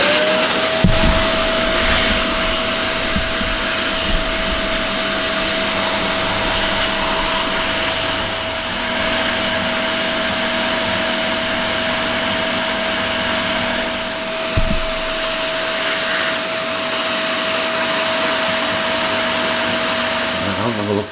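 A vacuum cleaner roars steadily with a high whine, close and loud, with a couple of thumps partway through.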